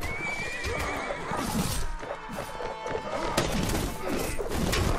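Cavalry horses in Mount & Blade: Warband neigh and whinny over a busy battle din of hooves, thuds and crashes, loud and continuous.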